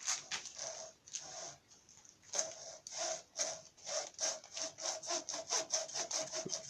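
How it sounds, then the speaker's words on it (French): A handsaw rasps through a small cork washer in quick back-and-forth strokes, starting uneven, then settling into a steady, fast rhythm, close by. "on prend la scie"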